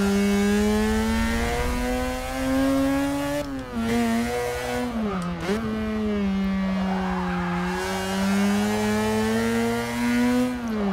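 A Volkswagen Polo from the Polo Red Car Pack roars in Forza Motorsport 6, its engine pitch climbing and dipping with gear changes and lifts, loud and continuous throughout.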